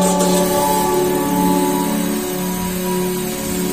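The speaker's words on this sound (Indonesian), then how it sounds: "Ya, hidup mesin." A Honda CR-V Turbo engine idles steadily, a continuous low hum with faint harmonic drone at moderate level, no talk over it.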